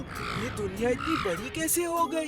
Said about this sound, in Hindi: ये कौवा मेरे पीछे क्यों पड़ा है?